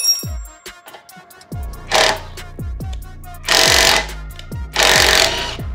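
An impact wrench loosening the wheel nuts on a car tyre, heard as three loud rattling bursts of hammering, each lasting about half a second to a second, separated by sharp clicks and pauses.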